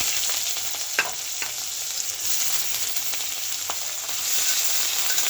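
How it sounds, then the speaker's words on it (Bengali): Onion and crushed garlic sizzle in hot oil in a wok for a vegetable mash, a steady close crackling hiss with a few sharp pops and stirring scrapes, no voices. "ভর্তার জন্য কড়াইতে তেল দিয়েছি, গরম হয়ে গেছে। এখন পেঁয়াজ আর থেতো করা রসুনটা দিয়ে দেব।"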